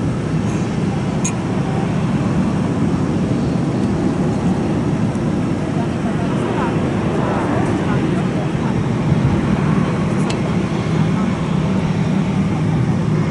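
A small twin-engine propeller plane at Chubu Centrair Airport gives off a continuous distant engine drone from the observation deck, with people talking close by and occasional sharp clicks.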